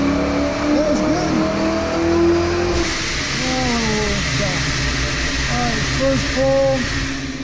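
A 1995 Ford Mustang with bolt-on modifications roars steadily on a chassis dyno, its engine held loud and sustained through a full-throttle pull with rising pitch, while voices call out faintly beneath the engine noise.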